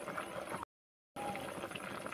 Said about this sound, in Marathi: इथे मस्त अशी उकळी आले, बघू शकता.